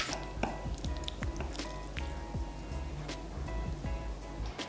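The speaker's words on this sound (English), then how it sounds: "Squeeze some lemon all over and stir it through." Lemon squeezed over buttered lobster pasta, a soft wet squishing with small drips and splashes in irregular spurts, close and fairly quiet.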